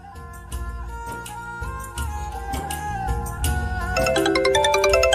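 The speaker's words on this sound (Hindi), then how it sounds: "ये तेरा फोन बज रहा है।" A phone's melodic ringtone plays continuously, steady and fairly loud, growing brighter toward the end with no voices.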